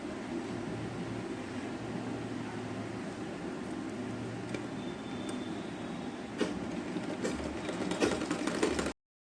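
A sewing machine stitching a tulip sleeve gives a faint, steady mechanical hum, and a few sharper clicks and rattles build toward the end.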